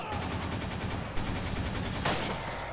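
A Bren light machine gun fires a rapid, steady burst of rounds in the Forgotten Hope 2 game, at Sfakia. The shots are loud and close, with no talk over them.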